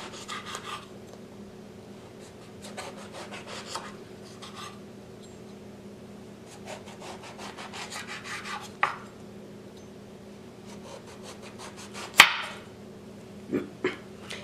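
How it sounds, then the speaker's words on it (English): Knife cutting eggplant into round slices and then chunks, with repeated soft slicing strokes on a board and a few sharper knocks toward the end, close and fairly quiet. "Cut the eggplant into 1/2-inch round slices."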